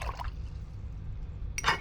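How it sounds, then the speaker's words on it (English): An acrylic paint brush swishes and splashes briefly in a container of water, with a short burst at the start and another at the end and a quiet pause between. "I'm going to rinse my brush."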